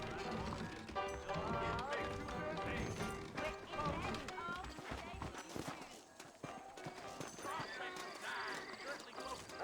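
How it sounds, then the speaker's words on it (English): Horses clip-clop along in Red Dead Redemption, hooves beating in a loose rhythm under music and ambient game sounds. "I got the horses saddled up and ready out front."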